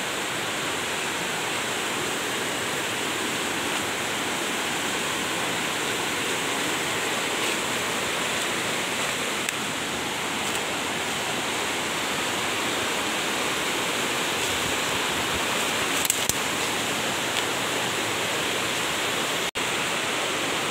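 The Cimandiri river rushes past the bank in a constant, broad wash of flowing water, steady and fairly close, with a few faint knocks and no voices.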